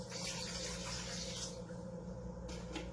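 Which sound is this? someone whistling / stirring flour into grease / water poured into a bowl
water poured into a bowl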